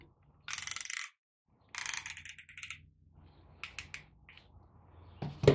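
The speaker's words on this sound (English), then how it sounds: "We're gonna stick our piston into our ring compressor, and we're going to tighten it." Ratcheting clicks from a piston ring compressor being tightened around a piston for a VW GTI MK1 engine, close and clear in several quick bursts separated by short pauses, with no talking.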